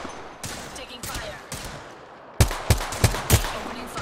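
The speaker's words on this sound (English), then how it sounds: "Taking fire." Gunfire in a video game, with scattered shots early on, then a louder, closer burst of four heavy shots in quick succession near the end.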